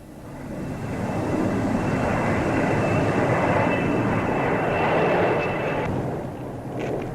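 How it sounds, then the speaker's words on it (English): An Avro Vulcan delta-wing jet bomber roars past in a broad, rushing engine noise that swells, holds steady and slowly fades, with a faint thin whine running through it. "There's the delta-shaped Vulcan, another of Britain's newest bombers."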